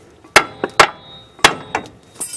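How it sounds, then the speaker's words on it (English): A hammer strikes the lower ball joint stud on a Ford Ranger, giving five or six sharp metallic whacks in irregular pairs, loud and close, with a faint clink at the end. "you can try hitting the stud from the bottom some more to break it loose"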